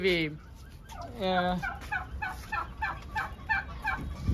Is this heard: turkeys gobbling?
yes